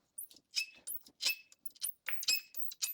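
A wheel spinning on a freshly reassembled spindle of a 1962 Volkswagen Beetle ragtop gives a string of short, high squeaks in an uneven rhythm, close and fairly faint, with no talk over it.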